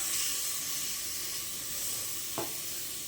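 Tomatoes hit a pan of frying beef curry with a steady hiss and sizzle, plus a brief stirring scrape near the end.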